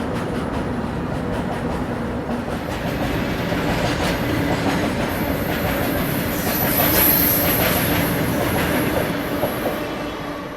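Train accelerating away from a station platform, its wheels clattering steadily over rail joints with faint squeals, a loud continuous rumble that swells slightly toward the end.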